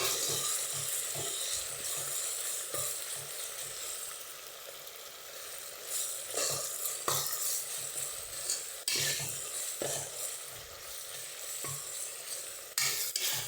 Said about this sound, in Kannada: ಸೊ ಇದನ್ನು ಚೆನ್ನಾಗಿ ಫ್ರೈ ಮಾಡ್ಕೋಬೇಕು.